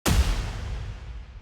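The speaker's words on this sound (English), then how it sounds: "Then we've got this impact." One heavy, booming cinematic impact from the Serum synth lands suddenly, then a deep rumbling tail slowly decays over about a second, full and loud with no voices.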